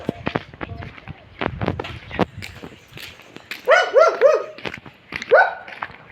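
Several dogs bark in sharp, repeated bursts, some fairly near, with people talking in between.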